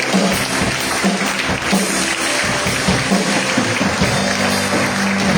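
Congregation applauding in a church service, a dense steady wash of clapping that fills the whole stretch at close range and loud level, with no clear talk over it.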